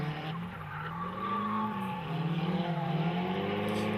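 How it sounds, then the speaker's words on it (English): Drift car e-braking into a corner at a motorsports drifting event, tires squealing and skidding in a sustained wavering screech over engine drone, fairly loud and continuous. "I would imagine it was an e-brake like normal at that corner."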